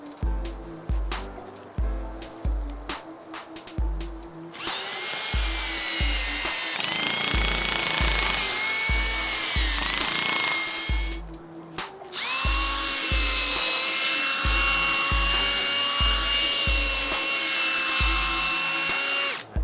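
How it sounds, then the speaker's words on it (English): A power drill whines loudly in two long runs, boring angled holes while setting coyote traps, broken by pauses with tapping and handling clatter, close at hand. "I bought this tool right here, this bit, to help me drill these holes started."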